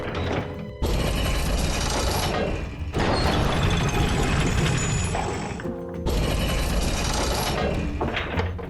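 Lever mechanism in a Minecraft mod voiced with Bloodborne-style effects: heavy grinding gears and ratcheting metal clanks in three long, loud bursts, with crashing, rattling texture and brief pauses between.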